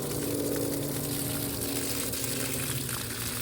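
Water running steadily onto kale plants in a home garden, a continuous close gushing and splashing stream with no talk over it.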